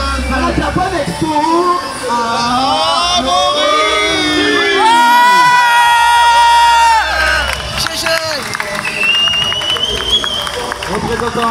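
Crowd at the Japan Expo cheering and applauding a Battle League 2019 champion, a loud sustained roar of voices with whoops and clapping, while a presenter talks excitedly over it.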